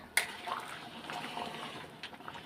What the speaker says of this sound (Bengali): এই যে জল, গরম জল করে রেখেছি, বেশি জল দেবো না, এইটুকুই দেব।